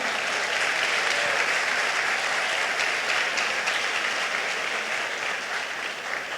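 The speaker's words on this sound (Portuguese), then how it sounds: "Podemos aplaudir ao Senhor nessa noite." A church congregation applauds at an evening evangelical service, a full, continuous clapping that stays steady and loud throughout, with no talking over it.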